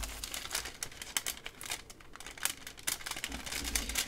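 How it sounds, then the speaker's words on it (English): Wrapping paper crinkling as enamel pins are unwrapped, with continuous close, loud rustling and crackling and brief tearing-like bursts throughout, with no talking. "I'm sorry for all the crinkling."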